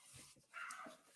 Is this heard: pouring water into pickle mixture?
no